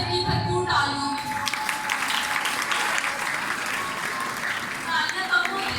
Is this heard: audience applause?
yes